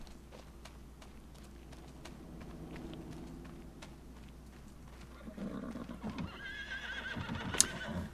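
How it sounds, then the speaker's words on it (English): Faint horse sounds in the video game Farming Simulator 25, with soft hoof clops, building to a louder whinny near the end. "Okay, there's our horses."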